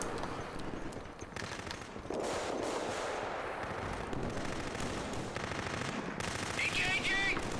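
Light machine gun firing in the video game Killzone 3, heard as sustained rapid bursts of gunfire within a dense, noisy battle mix.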